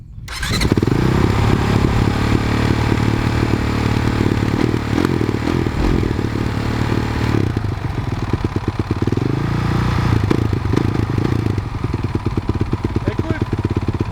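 Honda CRF450 supermoto motorcycle revving loudly and pulling away in first gear, a close, continuous engine roar with rapid exhaust pulses throughout.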